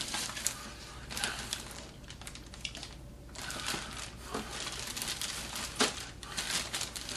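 Plastic packaging crinkles and rustles up close inside an opened model kit box for a Mars Hopper, a continuous busy crackle with bursts of louder crumpling and no talk.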